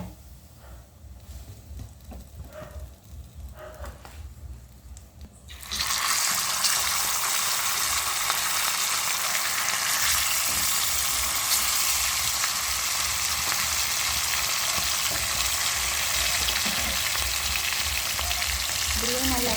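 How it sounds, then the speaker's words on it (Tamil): Meat frying hard in a pan for kothu idiyappam, a steady loud sizzle that jumps up after a quieter start with faint stirring and clatter, then holds evenly to the end with no talking. "இப்படியே நல்ல வழியாக பொரியட்டும் இறைச்சி."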